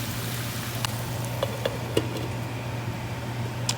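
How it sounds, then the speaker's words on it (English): Greens sautéing in a pan give a soft continuous sizzle with a low steady hum beneath, broken by a few faint clicks and light taps from stirring. "I'm going to saute these as well"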